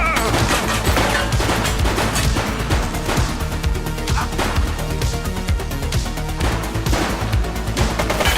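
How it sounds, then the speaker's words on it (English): Gunfire in the police video game The Precinct: a continuous barrage of loud, close shots that rattle in rapid bursts throughout, like automatic weapon fire, dense and unbroken with no pauses. "Shots fired!"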